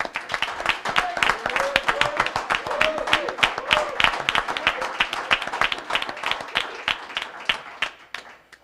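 An audience at a high school signing-day event applauds, a dense and sustained burst of clapping that rings out loudly, then thins and fades near the end.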